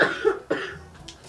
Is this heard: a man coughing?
yes